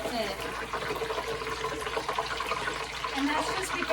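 Water runs steadily from a tap, rinsing a pot that will be used for making mozzarella on a farm, a continuous splashing flow lasting several seconds.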